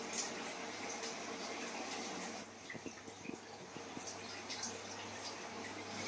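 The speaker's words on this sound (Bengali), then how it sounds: "টমেটোটা ধুয়ে নেব" Tomatoes get rinsed under a running tap in a home kitchen, a soft, steady water rush with light splashing and drips, fairly quiet throughout.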